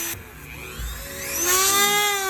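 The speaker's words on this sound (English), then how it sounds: "So go and grab a Dremel, you know, and just cut it real and easy" A Dremel rotary tool whines at high speed while cutting during a coilover install on a 2014-15 Honda Civic, its pitch sliding and rising as the bit bites, close and loud for a couple of seconds.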